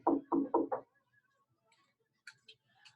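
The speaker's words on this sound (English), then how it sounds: "Let's knock." Four firm, evenly spaced knocks on an office door inside City Hall, close and loud, followed by quiet with faint distant clicks and rustles.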